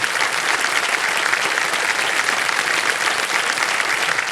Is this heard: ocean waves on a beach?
no